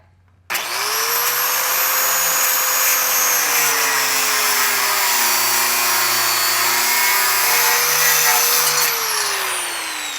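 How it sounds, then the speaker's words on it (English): Loud continuous whine of a power cutting tool slicing through a bolt during a 4.5-inch lift kit install on a Jeep, starting abruptly with a pitch that sags and wavers under load, then rises as it frees up; no talking. "Option B, we come in here, cut this bolt off, pound it out."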